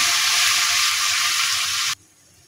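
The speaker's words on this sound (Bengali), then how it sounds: "এইসব মশলাকে আমি এখন ভালোভাবে কষিয়ে নেব।" Spices with ginger paste and garlic paste sauté in a pan for chicken biryani, giving a loud, steady sizzling hiss that cuts off abruptly near the end, leaving near silence.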